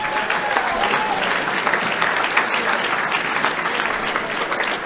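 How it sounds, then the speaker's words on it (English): An audience at a football banquet applauding, a dense, steady wash of clapping from many hands that carries on without a break. "Can we give them a hand for all their help?"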